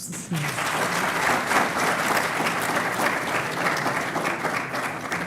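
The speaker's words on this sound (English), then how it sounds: "please give her a warm round of applause" A large audience applauds at a university Faculty of Science public lecture, a dense, steady wash of clapping that starts abruptly and holds at full strength throughout.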